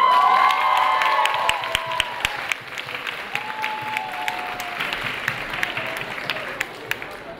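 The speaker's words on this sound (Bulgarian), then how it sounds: "Аплодисменти за тях!" Applause at an award ceremony during an anime and K-pop expo: a dense, loud wash of clapping from a crowd, strongest at first and easing off while staying steady, with faint cheering and occasional voices mixed in.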